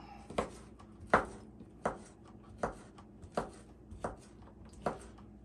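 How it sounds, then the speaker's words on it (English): Smoked sausage chopped with a knife on a cutting board, seven crisp, evenly spaced thuds at a steady rhythm, close and fairly quiet. "Cut it up."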